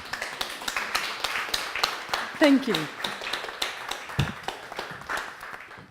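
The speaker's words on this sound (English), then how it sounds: "You can applaud." Audience in a debate hall applauds with steady, close clapping throughout, as a voice briefly speaks over it.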